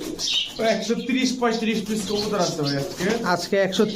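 Pigeons coo in soft, throaty, repeated calls, close by, with several birds overlapping, at a place with thirty to thirty-five pigeons.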